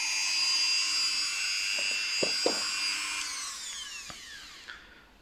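A power drill whines steadily while driving a screw during restoration work on a 1996 Honda Civic EK3, the continuous motor tone holding for about three seconds before winding down, with a few sharp knocks and clicks near the end.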